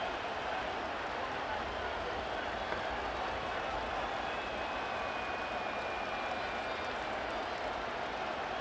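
A Madden NFL 25 stadium crowd roars at a steady, dense level throughout, broad and distant-sounding, with faint voices mixed into the wash.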